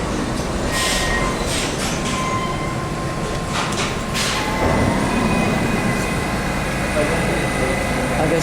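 A New York City subway train rumbles through an underground station, its loud, steady roar carrying faint wheel squeal and clicking rail noise. Railfans talk briefly over it.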